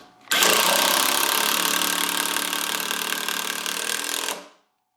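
A Chicago Pneumatic cordless impact driver sinks a 3-inch coated deck screw into 2x lumber on a deck, a loud, steady, dense rattling hammer lasting about four seconds before cutting off abruptly.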